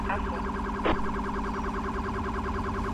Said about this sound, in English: Oh, that siren, right?